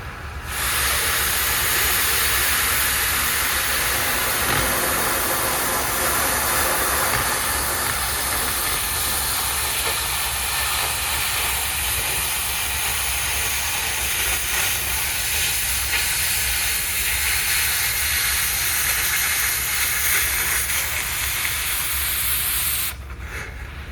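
An oxy-fuel torch cutting a steel I-beam roars with a loud, steady, broadband hiss of released oxygen, sustained for over twenty seconds before cutting off abruptly.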